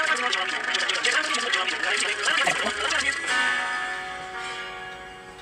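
A Beatles-era pop song plays back, with clavichord mixed alongside piano, carrying dense bright melodic layers that thin out and fade toward the end.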